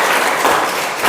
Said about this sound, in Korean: 남성교회 수고했다고 박수 한번 할까요?